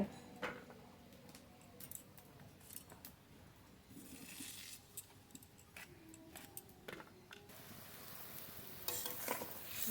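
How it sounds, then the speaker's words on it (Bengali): Snakehead fish curry gravy bubbling in a pan, with a steady sizzling bubble broken by scattered utensil clinks and scraping stirs, close and moderately loud with no talk. "ঝোল খুব ভালো ফুটে গেছে"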